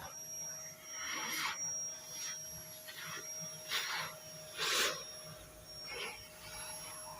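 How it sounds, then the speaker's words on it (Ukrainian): A vacuum cleaner is used to blow dust off a freshly cut piece during a home tooth-cutter workshop job, giving a soft steady whine with repeated breathy bursts of airflow, moderately quiet and with no talk. "Зараз це здую пилососом, щоб воно не літало."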